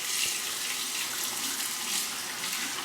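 Water runs steadily from a bathroom tap while a Parker 60R razor is rinsed, a close, continuous hiss and splatter with no talk.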